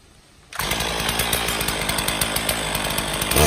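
A chainsaw bursts into a loud, steady roar after a quiet half second, cutting a fallen oak limb into firewood with close, buzzing engine noise that revs higher near the end.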